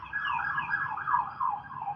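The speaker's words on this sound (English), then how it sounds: "Sorry about the police car, you guys. It's kind of noisy around here." Wailing police car siren passing outside in a noisy neighbourhood, its pitch sweeping up and down in quick repeated cycles, loud and steady without any talk.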